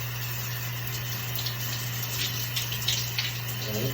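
Water runs from a shower just turned on after a cartridge valve replacement, a steady hiss of spray alongside a constant low hum from the plumbing, with faint splashing near the end.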